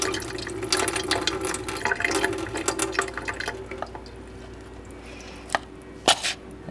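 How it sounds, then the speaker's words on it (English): Water pours out of a cup into a container while a warm mist humidifier is being set up, first as a continuous close splashing stream, then easing into a few scattered drips and trickles. "I'm going to carefully pour the water out of the cup."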